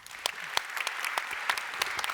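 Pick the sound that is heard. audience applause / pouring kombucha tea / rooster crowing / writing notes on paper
audience applause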